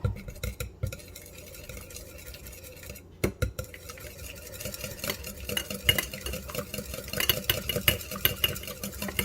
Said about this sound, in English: We're going to take these ingredients and whisk them together.